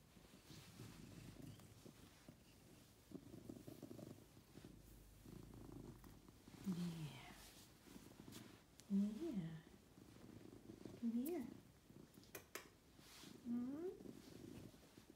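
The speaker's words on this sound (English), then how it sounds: "You got a big purr motor." A cat purrs loudly and steadily up close, a continuous low rumbling motor with occasional soft vocal chirps, while a person talks softly over it.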